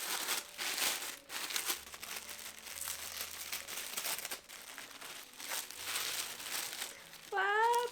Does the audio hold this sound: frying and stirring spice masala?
no